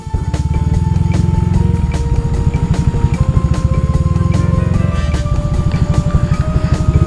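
A carbureted Yamaha Mio automatic scooter engine runs close by with a rapid, pulsing putter that rises slightly as the throttle is blipped, steady and loud throughout with no voices.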